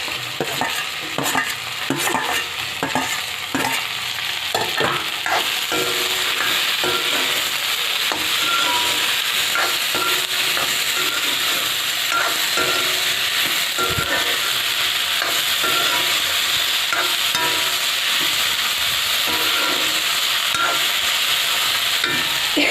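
Mixed vegetables stir-fry in a hot pan, with a continuous loud sizzle broken by repeated scraping and clattering strokes of a spatula stirring throughout, and no voices.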